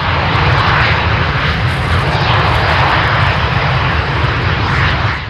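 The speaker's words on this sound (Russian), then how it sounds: "Легкие реактивные штурмовики Л-39 уносятся в небо под аплодисменты зрителей." L-39 light jet attack aircraft at an air show make a loud, steady roaring engine drone close by, sustained without a break, with no voices.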